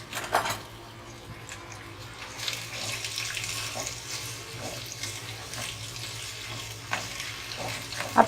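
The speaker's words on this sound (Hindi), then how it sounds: "लाइट ब्राउन कलर में आप प्याज को फ्राई कर लीजिए।" Onion slices frying in hot oil, browning lightly, give a continuous hissing sizzle with soft stirring scrapes and a couple of louder knocks, close and steady throughout.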